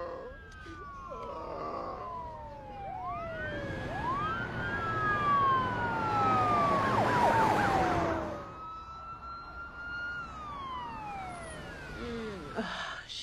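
An ambulance siren in a French film wails in rising and falling sweeps, loud and close, with overlapping tones and a strong swell in the middle before it fades back. Faint voices sit under it.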